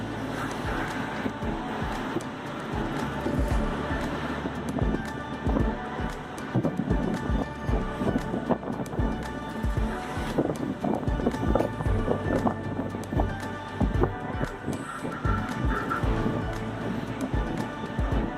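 Heavy, biting cold wind at sea on a voyage to Antarctica through the Roaring Forties buffets close by as a continuous, gusting rumble with uneven surges that persists for the whole stretch.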